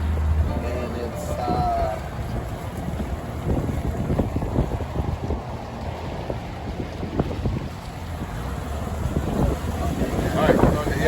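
A motorboat cruises slowly along the Intracoastal Waterway, its low engine drone steady throughout with wind buffeting the microphone and water noise, while people talk intermittently over it.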